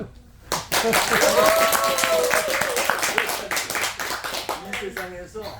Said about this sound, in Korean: 앞으로 박수를 이렇게 칠 거예요.